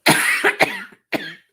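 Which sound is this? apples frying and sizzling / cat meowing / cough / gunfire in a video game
cough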